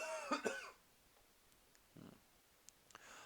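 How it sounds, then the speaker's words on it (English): Two quick, hoarse coughs from someone with a lingering cold come right at the start, followed by near silence with a few faint clicks. "I am still fighting a bit of a cough"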